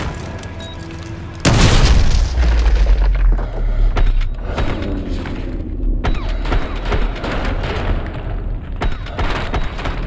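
A loud breaching blast in Call of Duty Modern Warfare 2 booms out abruptly after a few seconds of quieter ambience, followed by ringing rumble and a string of sharp gunshots and thuds continuing to the end.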